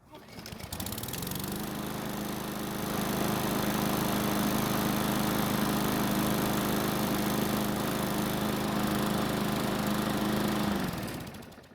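A hot Garden Line walk-behind lawn mower engine starts quickly and runs at a steady, loud drone for about ten seconds before being cut off.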